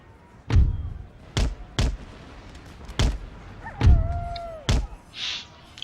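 Artillery in the video game Empire Total War, firing about six separate heavy booms with gaps between them, loud and close.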